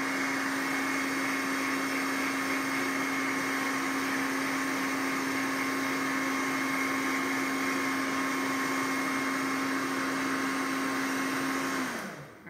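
Heat tool blowing hot air onto polymer clay, a loud, steady whirring hiss with a constant motor whine that runs alone for about twelve seconds before abruptly winding down when switched off.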